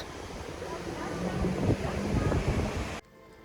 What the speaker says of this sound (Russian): Ветрено сегодня достаточно.